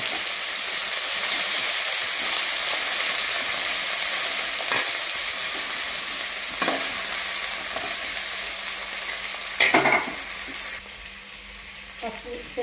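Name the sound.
frying tomato pieces with onion and curry leaves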